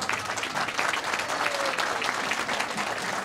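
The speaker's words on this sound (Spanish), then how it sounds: "Vamos a brindarles un fuerte aplauso a todos los organizadores" A festival crowd at a town fiesta applauds loudly and steadily, a dense continuous wash of clapping with no break.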